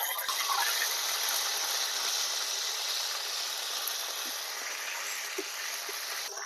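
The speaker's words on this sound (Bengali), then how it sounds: "এবারে আমি আদা কাঁচা লঙ্কা বাটাটা ভেজে নেব।" Ginger and green chili paste frying in oil with cardamom and spices in a pan, a steady broad sizzle that fills the whole clip at an even, close level with no talk.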